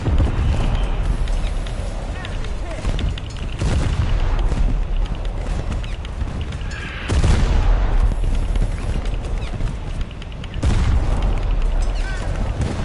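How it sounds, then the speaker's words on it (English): Naval gunfire and explosions in War Thunder during a ship exchange, loud repeated booming blasts in several heavy bursts with rumbling between them. "He's firing at me. I'm firing at him."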